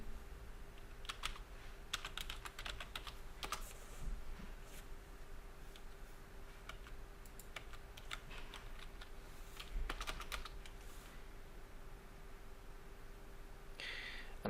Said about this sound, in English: I can hit spacebar